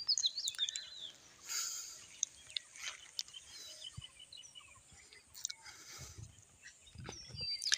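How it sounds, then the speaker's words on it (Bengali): Birds chirp and tweet around tea gardens on the India–Bangladesh border, scattered high calls near and far over a quiet rustling background, with no one talking. "চারিদিকে শুধু পাখির কলকাকলি শব্দ, অ্যামেজিং লাগে"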